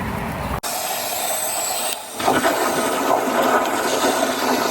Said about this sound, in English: This water over here has more pressure than any water hose or faucet hydrant I've ever seen